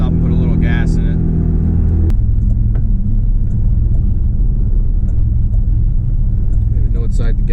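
A 25-year-old project truck engine idles with a loud, steady low rumble that runs slightly uneven, while a voice talks over the start.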